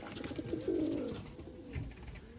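Pigeons coo close by, a few soft throaty rolls building into a fuller warbling coo in the middle, then fading into a quieter murmur.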